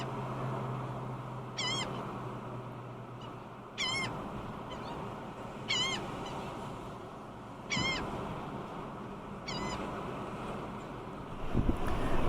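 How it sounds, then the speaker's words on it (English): Gusty wind roars over a beach at Port Aransas as a steady, loud rush. A high, squeaky bird call repeats about every two seconds above it. "Must be hard work fighting against this wind."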